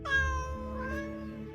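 A kitten gives one drawn-out, wavering meow that rises and then sags, close and clear with nothing else around it.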